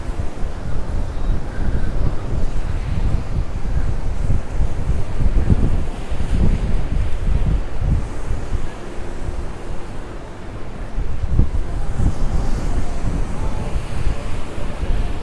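Strong wind buffets the microphone with a loud, constant low roar while rough sea waves crash and wash along the shore at Santa Ponsa, Mallorca, heard close and continuous with no talking.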